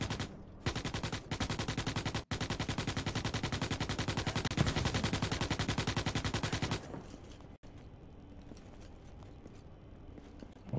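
Rapid automatic gunfire from a sci-fi shooter, Starship Troopers: Extermination, rattles in long, dense, loud bursts for about six seconds, then drops away to quieter background battle noise.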